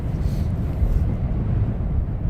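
Strong wind at Luton Airport, a steady low roaring buffet against the microphone lasting throughout, loud and continuous with no talk.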